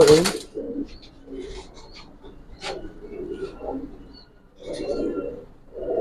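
Silver pankhi military pigeons give several soft, low coos in short bursts, with quiet background noise between them.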